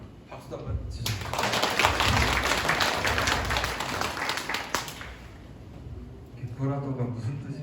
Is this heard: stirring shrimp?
no